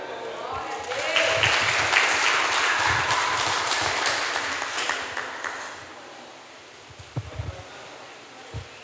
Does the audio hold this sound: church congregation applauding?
yes